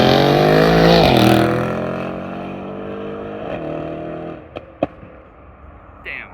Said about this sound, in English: Here we go, here's the C63 leaving.